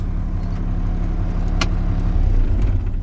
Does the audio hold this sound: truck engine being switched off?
yes